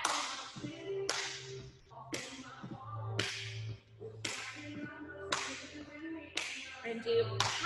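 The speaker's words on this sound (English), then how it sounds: "Now add a clap." Sharp, loud hand claps during a kids' poms dance routine, landing about once per second in a steady rhythm over backing music.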